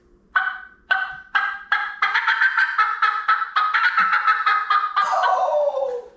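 A reed turkey call with a soaked reed produces rapid, raspy gobbling yelps, a series of sharp clucks quickening into a continuous chattering run, close and loud, with a sick-sounding rasp, imitating a wild turkey.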